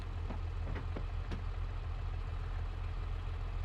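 Tractor engine idling in Farming Simulator 22, a low, steady diesel rumble holding constant throughout, with a few faint brief clicks early on and no voices.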